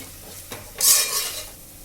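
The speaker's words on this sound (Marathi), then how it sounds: "मसाला छान परतून झालेला आहे" Masala spices frying in oil with a stirring spoon, a close scrape followed by a bright burst of sizzling that fades within about a second.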